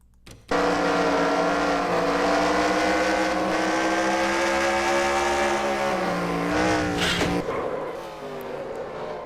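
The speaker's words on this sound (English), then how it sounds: "Car just got obliterated right there" Loud, sustained engine roar from a NASCAR Nationwide Series racing video game, with tonal whine holding steady then breaking up around a crash, ending in a rougher, fading rumble; no speech.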